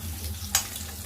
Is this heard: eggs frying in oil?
yes